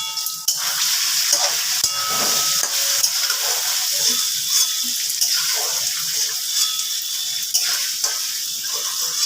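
Paneer cubes frying in oil in a pan with a pinch of salt added, giving a steady close sizzle and crackle with occasional stirring scrapes throughout, no talking.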